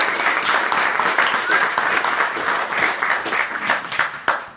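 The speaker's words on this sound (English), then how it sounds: "So if we could give them a quick round of applause." An audience at a group home open house gives a quick round of applause: dense, lively clapping from many hands that fills the room, then tapers off at the end.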